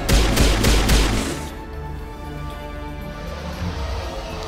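Explosive ammo gunfire in Mass Effect Legendary Edition: a rapid burst of sharp shots and blasts in the first second and a half, loud and close, fading into a low rumble.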